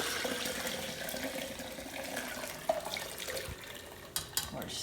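Liquid from turkey prep, with the vegetables already removed, strained in a kitchen sink: a steady, soft running-water wash with a couple of brief clunks near the end.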